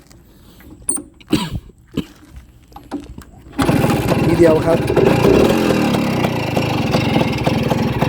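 Suzuki A100 motorcycle with original carburetor and rebuilt engine, started with one kick after brief speech, then a loud, steady two-stroke engine running close by for the rest of the clip.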